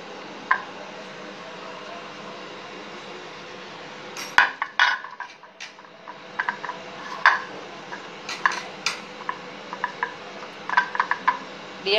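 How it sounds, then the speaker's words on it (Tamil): Metal idli plates clink and tap as they are greased with oil in a kitchen, in irregular light knocks and scrapes, some sharp and close, over a quiet background hiss. "இப்போ வந்து அடுத்து நம்ம இட்லி தட்டில் கொஞ்சம் ஆயில் தடவிக்கிடுவோம்"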